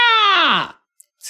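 A short voice clip plays as the victory sound in Heroes of Newerth: a loud drawn-out vocal cry that falls in pitch and fades within a second, followed by two faint brief blips.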